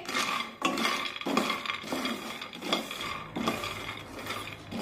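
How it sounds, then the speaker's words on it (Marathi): Peanuts dry-roasting in a pan over a medium gas flame, stirred with repeated scraping and rattling strokes of a utensil against the metal, close and moderately loud with no talking. "शेंगदाणे भाजत असताना गॅसची फ्लेम ही मध्यम ठेवायची आणि मध्यम आचेवर शेंगदाणे भाजून घ्यायचे।"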